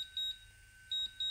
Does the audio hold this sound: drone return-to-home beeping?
yes